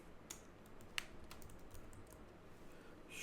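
Quiet clicks of computer keys as a short keyword is typed in at a desk, a few distinct taps over faint room hiss with no talking.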